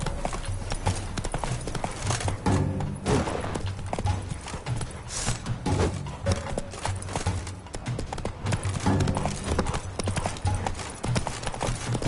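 Roach, the horse in The Witcher 3: Blood and Wine on PS5, gallops with a steady rapid clip-clop of hooves under a continuous background of game sound, loud and close throughout.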